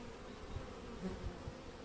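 Faint, soft buzzing of honey bees at a weak hive, a low steady hum with a few brief closer passes and no voices.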